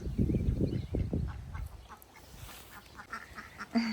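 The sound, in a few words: ducks quacking in backyard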